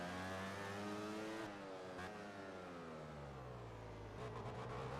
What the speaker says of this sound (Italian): sento le moto veramente vicine